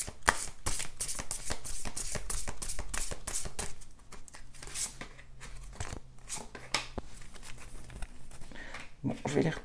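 Guardian angel tarot cards are shuffled and riffled by hand, with a dense, continuous flutter of papery slaps and swishes up close and a voice speaking at times over it.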